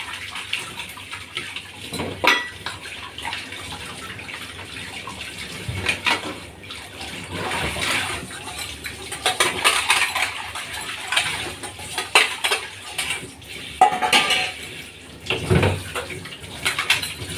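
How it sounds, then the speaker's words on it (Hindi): Running tap water splashes steadily over dishes in a kitchen sink, with intermittent clinks and clatters of utensils and pots knocking together throughout, fairly close and continuous. "चलो जी बर्तन भी मेरे धुल रहे हैं आप लोगों से बात करते करते"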